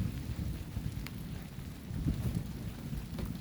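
Rain beginning during a strong thunderstorm at Montady, a soft, faint patter with low rumbling underneath and a few scattered drop taps.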